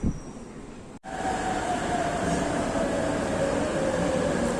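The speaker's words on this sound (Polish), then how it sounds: "O, przyjechał akurat pociąg." A metro train in Kuala Lumpur rumbles steadily into a station, a continuous loud roar with a faint high whine, after a brief dip near the start.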